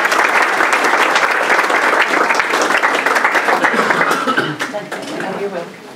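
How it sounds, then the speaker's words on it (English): Audience applause at a school board meeting, steady crowd clapping that thins out near the end, with voices talking over it. "Give another round of applause."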